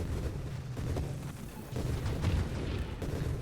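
Cluster bomb grenades going off in the space shooter game Nova Drift after a charge shot, a dense rumbling barrage of overlapping booms that fills the whole stretch at steady loudness.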